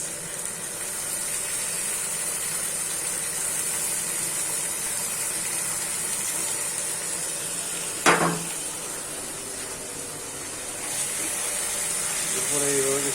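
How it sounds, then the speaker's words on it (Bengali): Canned tuna tipped into a pan of cooked spice masala, giving a steady broadband sizzle throughout with a brief sharp clatter and hiss burst partway through, then continuing frying. "খুলে নিয়ে আপনি টুনাগুলো এইভাবে হয়ে যাওয়া মশলার মধ্যে ঢেলে দেবেন"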